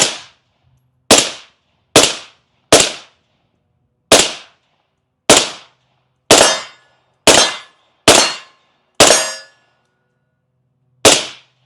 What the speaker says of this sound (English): So I'm just shooting the wood pile down there.